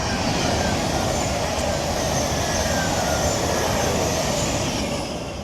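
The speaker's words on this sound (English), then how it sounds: "Here comes a train." A train rolls past close by, a sustained heavy rumble of wheels on rails with faint metallic squeal, holding loud and steady before easing slightly at the end; no one speaks over it.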